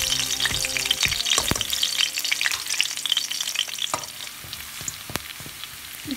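Ginger garlic paste fries in oil for a chicken Manchurian gravy, a steady close sizzle with repeated sharp scrapes and clinks of a spoon stirring the pan, no voices.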